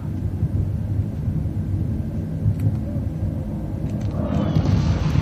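A plane in Battlefield 1943 makes a low, steady rumbling drone that holds for several seconds and swells near the end, with people talking over it.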